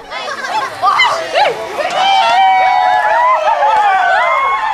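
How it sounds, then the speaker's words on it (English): Around 300 spectators roar at an annual Nungal land diving ceremony on Pentecost, Vanuatu, a loud, close crowd din of shouts, whoops and cheering that swells and holds throughout. "Behind me, the spectators roar."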